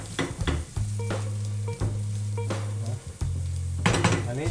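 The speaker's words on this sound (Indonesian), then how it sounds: "telurnya ini langsung di scramble, langsung di orak-arik" Egg scrambled in a buttered pan for egg tofu, with steady close sizzling frying and repeated scraping and stirring taps of a utensil against the pan throughout.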